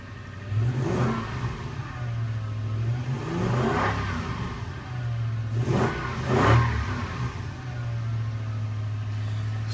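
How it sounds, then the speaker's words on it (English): A 2005 Toyota Tundra engine idles after a cold start, then is revved several times in spaced blips, each rise in pitch and volume falling back to a steady idle, heard fairly close. "Fires up every time. We'll rev her a little bit."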